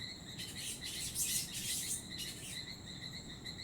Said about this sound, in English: These birds have a language too to argue